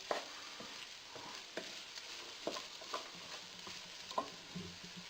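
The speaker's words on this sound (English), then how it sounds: "Give these a good mix round." Onions being stirred in a pot with a spoon, soft scattered clicks and scrapes against the pot over a faint, steady sizzle of frying, quiet and close.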